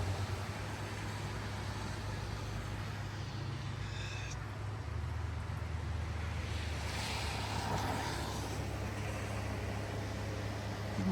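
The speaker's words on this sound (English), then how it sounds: "You can see it's raining." Rain falls outdoors as a constant broadband hiss, steady and moderately loud, with a low hum running underneath and no talking.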